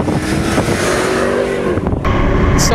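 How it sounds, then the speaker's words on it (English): A 475-horsepower car accelerates hard at full throttle, its engine roaring loud and close with a brief dip before pulling on strongly. "So that's full throttle, 475 horsepower, and it feels fast."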